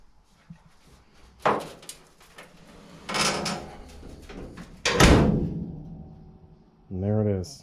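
A 1962 Dodge Dart hood is lowered and shut, producing several solid thunks spread over a few seconds, the loudest near the end, in a quiet garage with a brief voice at the close.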